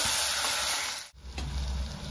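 Tomatoes and green chili with ginger are stirred in a sizzling pan, a bright continuous fry with scraping that drops out briefly near the middle, then resumes, with no talking.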